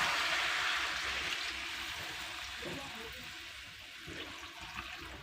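Water is poured into a pot of chicken and ash gourd curry, a steady, fairly loud gushing splash that eases off gradually over several seconds.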